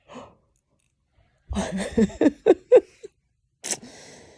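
A person lets out a drawn-out yawn broken into several breathy, voiced pulses, followed by a soft exhale and breath noise in a quiet room.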